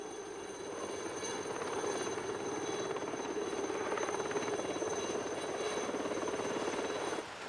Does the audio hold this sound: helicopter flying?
yes